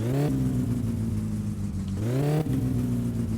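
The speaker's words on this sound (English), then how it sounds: "Let's rev her up a bit." An engine in the video game My Summer Car revs up twice in quick succession, each rise in pitch followed by a drop back to a steady idle hum, heard alone and fairly close.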